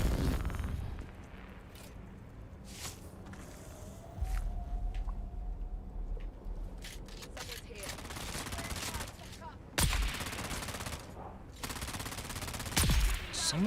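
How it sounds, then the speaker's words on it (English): Gunfire in Dune: Awakening, scattered bursts of shots and rapid volleys popping at intervals among quieter stretches, some sharp and near, others softer. "Someone's shooting at me?"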